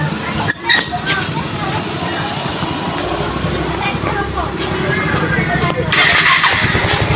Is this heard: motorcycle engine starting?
yes